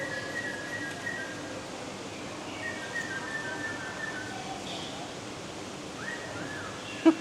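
A snowy-crowned robin chat at Chester Zoo gives clear, sustained whistled notes and a rising whistle over a steady outdoor hiss, moderately distant, with a brief sharp knock at the end.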